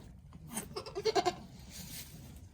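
A Nigerian dwarf goat doe bleats during birth, a short series of close, strained cries rising to a louder peak, with quiet background noise around it.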